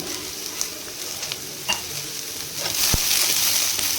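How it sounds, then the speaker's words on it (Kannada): Chopped ridge gourd fries in oil in a kadai with a continuous close sizzle and a few light stirring taps; the frying swells louder toward the end. "ಕಡಾಯಿ ಇಟ್ಕೊಂಡು ಸ್ವಲ್ಪ ಆಯಿಲ್ ಹಾಕ್ಕೊಂಡು ಇದನ್ನು ಈ ಥರ ಫ್ರೈ ಮಾಡ್ಕೊತಾ ಇದ್ದೀನಿ"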